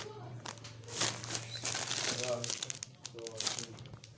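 Plastic bag of rice crinkling and rustling in irregular bursts close by, mixed with people talking.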